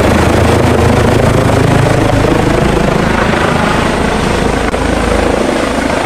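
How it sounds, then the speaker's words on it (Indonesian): Steady, loud helicopter rotor and engine drone fills the whole stretch without a break, close and continuous, likely from a toy vehicle, with no talk over it. "Yang ini ada helikopter teman-teman."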